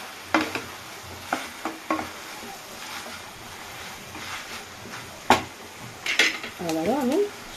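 Pumpkin greens go into a pan of well-reduced masala in a home kitchen, bringing a few soft clatters and scrapes of stirring over a low sizzle, with a brief short whistle-like tone near the end.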